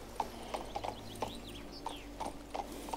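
Horse hooves clip-clopping at a steady trot in the video game King's Bounty 2, with even rhythmic hoofbeats under faint ambient game sounds and soft mechanical clicks.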